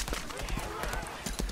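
Horse hooves clip-clopping in a quick, steady rhythm in the video game Lost Ark, heard at moderate level under someone talking.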